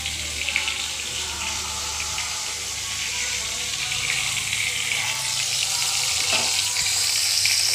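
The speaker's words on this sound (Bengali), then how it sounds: "পটলটা ভাজছি।" Pointed gourd (potol) frying in a pan in a home kitchen, a steady bright hiss and sizzle running throughout, close and fairly loud, with no talking over it.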